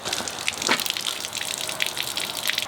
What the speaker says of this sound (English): We'll do this for a few minutes and wait till it stops that little gurgling sound.